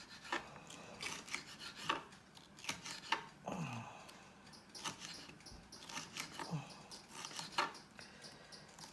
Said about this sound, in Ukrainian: Наріжемо перчик.